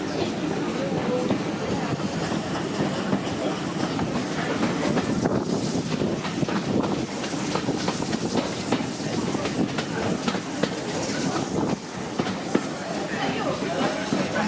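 Steady rumble and rattle of a heritage train rolling along rails at Tenterden, continuous and fairly loud throughout, with a voice speaking over the noise.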